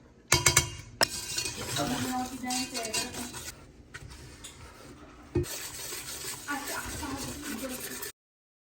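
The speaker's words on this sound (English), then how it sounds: "Stirring this, buddy. You got to keep this going." Chocolate mixture of sugar, butter and cocoa stirred in a pot, with steady scraping and clinking of a spoon against the pan, loud and close, broken by a couple of sharp knocks and occasional voice.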